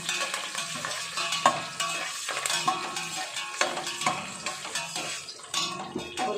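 Soaked moong dal and rice sauté in a pan, the spoon scraping and scooping in repeated uneven strokes over a soft background sizzle, each push rattling the grains against the metal.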